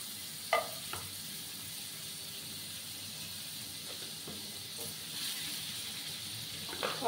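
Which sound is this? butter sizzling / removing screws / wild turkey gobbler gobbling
butter sizzling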